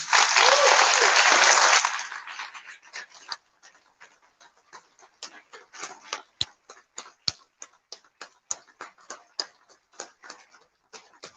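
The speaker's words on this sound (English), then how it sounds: "Please give a big round of applause to Eliana Brooks." Audience applause at a live event, a loud dense burst of clapping for about two seconds that quickly fades into scattered, sparse individual claps.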